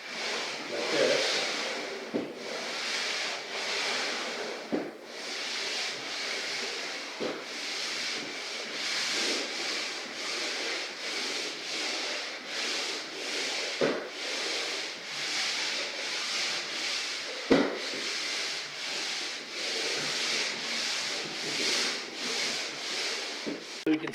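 Continuous abrasive rasp of sanding on an oak floor, swelling and fading in repeated back-and-forth strokes along the edge, close and fairly loud with occasional knocks.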